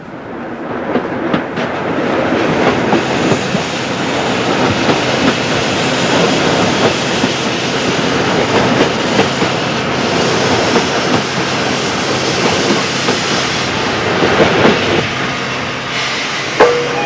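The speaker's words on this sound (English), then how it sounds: "Another London Transport steam branch filmed by Mr. Wilmot" A London Transport steam train rumbles steadily along a branch line for the whole stretch, with a continuous roar and faint rhythmic clatter from the wheels, fairly close and loud.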